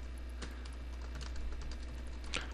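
Someone types on a computer keyboard in steady, soft clicking bursts over a constant low electrical hum, the keys close and clear.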